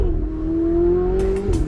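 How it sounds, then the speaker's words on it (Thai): A Ferrari sports car engine hums steadily and rises slightly in pitch around 61 km/h, a smooth sustained drone heard from nearby, with faint clicks near the end. "นี่คือเสียงของรถฟอร์รี่นะครับ"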